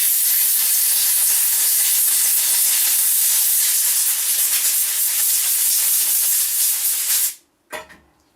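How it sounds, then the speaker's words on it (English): Brake cleaner sprayed from an aerosol can onto a very fine mesh filter on a Deere 2032R tractor: a loud, close, continuous hiss lasting about seven seconds, then it cuts off, followed by a brief clatter. "Just give her another shot of brake cleaner here."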